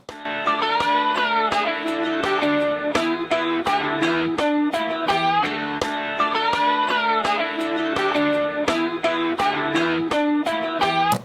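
Distorted electric guitar plays a fast solo lick, picked notes with bends and releases, loud and continuous.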